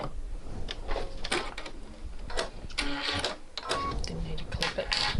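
A sewing machine runs back over earlier stitching while sewing a New Look 6575 garment, giving short quiet bursts of rapid mechanical whirring and clicking with pauses between them.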